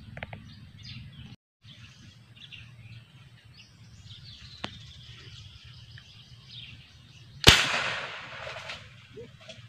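A homemade marble gun is test fired outdoors, giving one sharp, loud crack partway through, with faint birdsong and rustling ambience around it.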